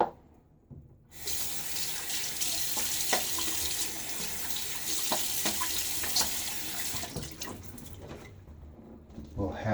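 A tap runs into a sink as a razor is rinsed under it during a wet shave, a close, steady splashing rush that starts abruptly and cuts off near the end.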